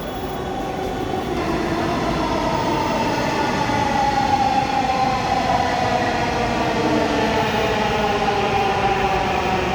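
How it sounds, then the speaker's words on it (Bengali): A metro train arrives at Mirpur 10 station in Dhaka, its steady loud rumble and rising and falling electric whine continuing throughout, close by, with no talk. "এটা অপর দিক থেকে এসেছে রেলটা।"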